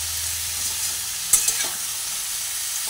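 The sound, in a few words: frying and stirring young jackfruit with potatoes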